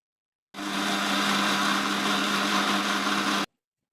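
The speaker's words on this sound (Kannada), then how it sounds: "ಹಸಿ ಕೊಬ್ಬರಿನ ಒಂಚೂರು ಮಿಕ್ಸಿ ಮಾಡೋಣ ಒಂದು ಸ್ವಲ್ಪ ನೀರು ಹಾಕಿ ಮಿಕ್ಸಿ ಮಾಡ್ಕೋಬೇಕು" A kitchen mixer grinder blending fresh coconut with a little water runs in one loud, steady whir for about three seconds, starting and stopping abruptly, with no talking.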